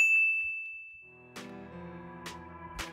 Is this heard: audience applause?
no